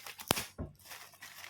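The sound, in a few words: unboxing, opening packaging of audio video connectors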